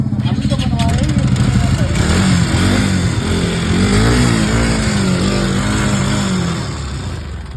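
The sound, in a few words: Bajaj Pulsar RS200 motorcycle engine making abnormal noise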